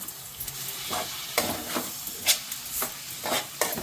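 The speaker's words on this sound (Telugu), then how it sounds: "టమాటాలు, మసాలాలు మొత్తం అంతా శుభ్రంగా కలిపేసుకోండి." A spoon stirs chole masala curry with tomatoes and spices in a sizzling pan, scraping in irregular strokes with occasional clinks, close up over a low frying hiss and no talking.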